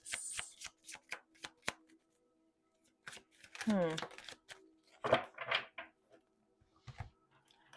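Tarot cards shuffled by hand at close range, a string of quick crisp riffles and snaps that stop and start, with a person speaking softly between bursts.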